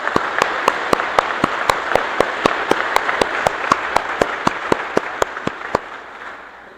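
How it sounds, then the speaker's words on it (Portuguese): A church congregation in Balneário Camboriú applauds the choir Coral Vozes do Mar with a broad, sustained wash of clapping. One loud, sharp clap stands out near the front at a steady, even beat before the applause fades away. "Quero pedir uma salva de palmas ao Coral Vozes do Mar."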